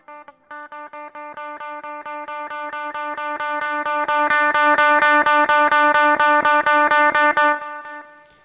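An electric guitar through a Zoom G1 on a clean boost setting plays a fast, evenly repeated chord pattern that grows gradually louder, holds, then stops and rings out; clean tone, no talking.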